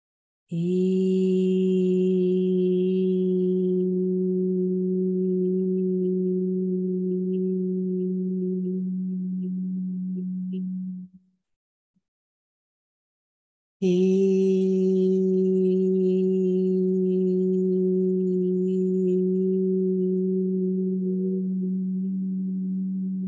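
A steady sung or synthesized tone on the note E for the crown chakra, a pure sustained pitch with strong overtones, holding for about eleven seconds, breaking off into brief silence, then resuming just as loud and even.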